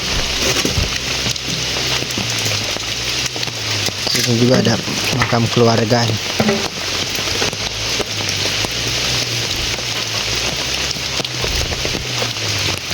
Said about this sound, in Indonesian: suasana kampung terpencil saat turun hujan bikin adem